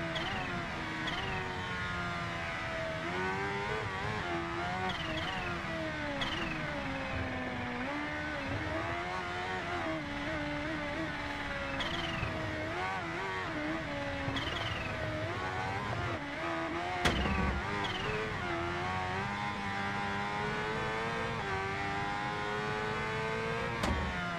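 A Kawasaki H2R superbike in the Ride 2 racing game, its engine screaming at high revs with rising and falling pitch through gear changes, loud and continuous with no talking.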